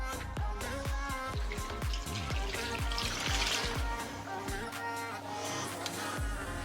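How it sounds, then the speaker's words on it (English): Water from a large cup is poured over vegetables in a slow cooker, making a soft, continuous splashing and trickling with scattered drips, fairly faint throughout. "Pour it over the top."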